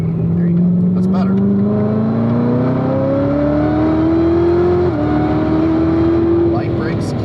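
Car engine on a race track pulls up in pitch as it accelerates, with a brief dip near the middle before climbing again, loud and close, while an instructor talks over it.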